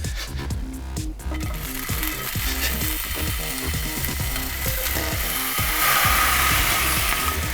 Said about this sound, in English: Let's hit the frying pan. It's just a light little fry, just to heat them up